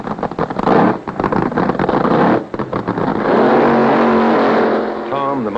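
Drag racing cars roaring loudly on their first run down the strip, a dense, sustained engine blast with rising tones near the end, overlaid by a voice talking.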